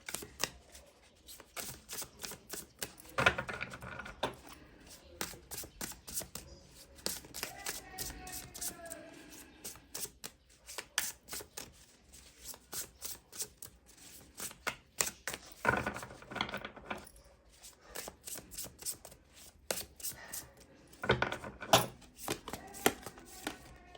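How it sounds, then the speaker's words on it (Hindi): Tarot cards shuffled and pulled from a deck, giving rapid riffling flutters and crisp snapping slaps in repeated bursts, close and fairly loud, with quiet gaps between handling. "यहाँ से भी कुछ कार्ड निकालेंगे।"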